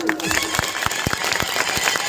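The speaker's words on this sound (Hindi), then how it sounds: "एक बार ताली बजा दीजिए सभी लोग" Audience at a large political rally in Rudhauli claps in a burst of applause, sharp hand claps scattered over a steady crowd noise with voices mixed in.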